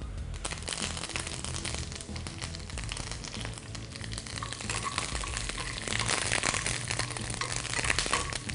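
Curry leaves and cashews crackle and spit in hot oil for festival pongal, a dense continuous sizzle with sharp pops that swells louder toward the end, close and busy, with no voice.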